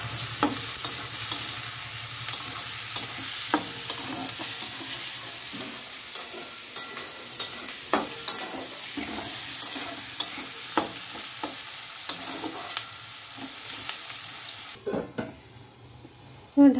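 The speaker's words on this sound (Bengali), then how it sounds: "ঢাকা দিয়ে দিয়ে 2 মিনিট একটু ভাজা হবে।" Jackfruit seeds fry in a pan with ginger, black cumin and onion, giving a continuous sizzle broken by frequent scraping stir clicks, with a short pause near the end.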